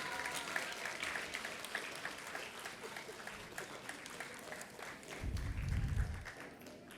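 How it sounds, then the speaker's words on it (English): Audience at a school awards ceremony applauding, steady crowd clapping throughout at moderate level, with a brief low rumble near the end and faint voices mixed in. "I want a louder applause."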